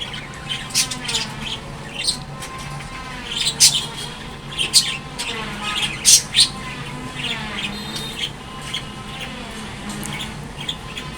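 Budgerigars in a cage with three newly hatched chicks keep up a busy, overlapping stream of sharp squawks and bright chirps, steady and close, with no voices.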